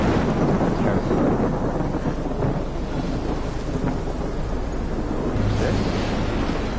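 Thunder from lightning in the Life is Strange prologue game, a low continuous rumble with rain-like wash throughout, rolling and fairly loud with a deeper swell near the end.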